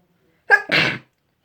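A single close, sharp sneeze, a quick inhaled catch and then a loud burst, in an otherwise silent room during at-home hair bleaching.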